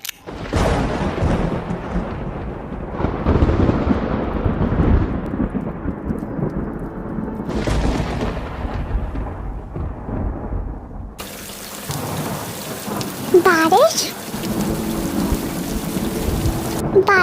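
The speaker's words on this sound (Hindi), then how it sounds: "बारिश शुरू हो गई, अब क्या करें?" Heavy rain pours steadily with low rumbles of thunder, the downpour swelling and easing before a sharper, brighter hiss of rain takes over near the end.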